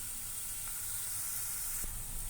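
Onions and chillies frying in oil in a pan, a steady close bright sizzle with a soft crackle now and then and a faint knock of the pan, no talking.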